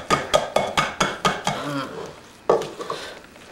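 Spoon clacking against a bowl as a burger mixture is stirred, with quick rhythmic scrapes and taps, a brief pause, then a few more strokes, close and loud with no talk.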